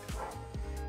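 A dog barks close by in a home kitchen while rice and dal are being served, giving a few sharp yips and barks in quick succession.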